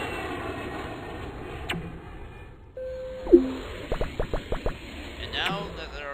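Airplane sounds in the airport management game Now Boarding, a steady engine hum overlaid with short electronic chimes and a quick run of repeated blips, close and moderately loud with a voice speaking over it.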